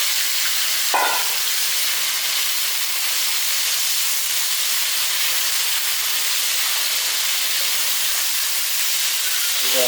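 Shrimp stir-frying in a hot pan for ramen noodles, giving a loud, steady, close sizzle and hiss throughout, with a brief clatter near the start.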